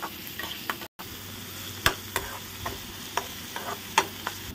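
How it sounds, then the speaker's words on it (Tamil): Chopped onions sauté in hot oil in a kadai, a steady close sizzle broken by several sharp clicks and scrapes of a spatula stirring against the pan, with one brief dropout near the start. "இப்போ வெங்காயம் நல்லா வதங்கணும்."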